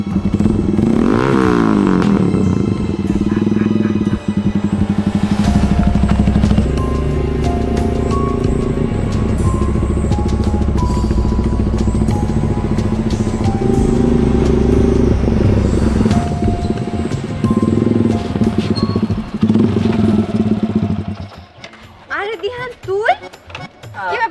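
A motorcycle engine runs loud and close for about twenty seconds, a rough steady idle with revving swells and clattering, then cuts off near the end as voices take over.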